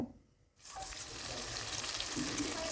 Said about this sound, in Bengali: পেঁয়াজ আর টমেটোটাকে হালকা করে ভেজে নেব